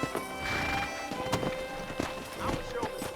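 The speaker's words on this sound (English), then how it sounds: "let's see if you can still ride a horse" Horse hooves clip-clop at a steady walking rhythm while riding in the video game Red Dead Redemption, with faint background game sounds and some talk mixed in.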